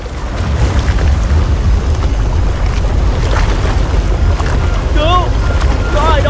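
A storm at sea batters a ship, with roaring wind and crashing waves filling the scene loudly and continuously, and brief whistling, wavering tones rising near the end.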